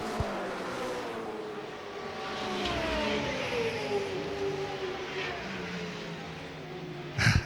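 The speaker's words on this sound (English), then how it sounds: "Here comes the Audi again" An Audi race car at the NIERDC 2017 final rounds turn 1, its engine note rising and falling in a steady pass from moderate distance against a broad circuit roar, with a brief sharp burst near the end.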